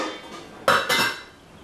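A lid set down on a saucepan of boiling pasta water gives two quick, close metallic clanks in close succession, with no talking.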